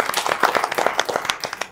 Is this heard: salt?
no